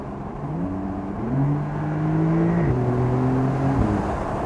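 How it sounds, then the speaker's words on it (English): A Porsche 992 Targa 4 engine revs up and holds a rising, steady tone before easing back, loud and close, with no one speaking. "Oh, the engine noise."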